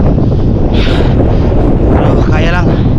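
Strong, gusty wind roars loudly and steadily into the microphone throughout, buffeting it during a morning solo bike ride in stormy weather.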